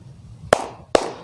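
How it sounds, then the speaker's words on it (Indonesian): Two sharp, loud hand claps about half a second apart, a spirited clapping rhythm led at a school flag ceremony, with no voices. "kita tepuk semangat dulu ya"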